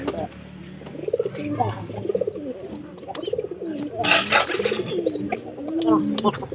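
Pigeons coo repeatedly in low, throaty rolling calls, close by, with some chirps and faint background voices mixed in.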